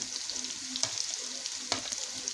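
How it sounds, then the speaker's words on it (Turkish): Parsley and onion being stirred in a hot frying pan: a steady close sizzle with a couple of sharp spatula scrapes against the pan. "karıştırıyoruz"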